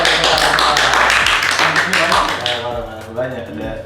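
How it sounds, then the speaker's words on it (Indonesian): Hand clapping greets a guest joining a podcast recorded in Indramayu, a dense burst of claps over the first couple of seconds that tapers off while voices talk over it. "Tepuk tangan."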